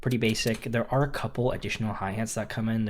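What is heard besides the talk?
No distinct noise like a dog, phone or traffic.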